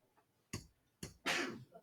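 A quick sharp sneeze in a classroom during a geometry lesson, preceded by a couple of short breathy catches, close and loud, in an otherwise quiet room.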